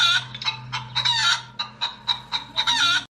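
Cartoon chickens cluck in quick repeated bursts with a rooster's calls among them, a village hen-theft scene; loud, close and rhythmic, about eight short squawking phrases with no talk.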